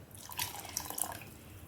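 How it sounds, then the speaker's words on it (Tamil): Water poured into a freshly rinsed mixer-grinder jar while making Tirunelveli-style bone rasam, a short, faint splash and trickle with a few bright drips, heard alone. "இந்த ஜாரியும் கொஞ்சம் கழுவி இதில் தண்ணியாக ஊற்றிடுவோம்"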